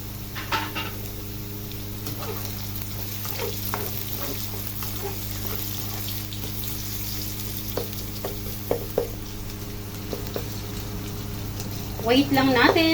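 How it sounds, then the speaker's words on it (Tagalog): Sliced onions frying in an oil-filled pan for a Filipino lapu-lapu soup, a steady close sizzle with occasional stirring scrapes, under someone talking. "And then this time ay pwede na natin ilagay ang ating onions."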